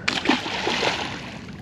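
A sturgeon is let go back into the water with a quick splash, followed by continuous sloshing and watery noise close by, with no talk.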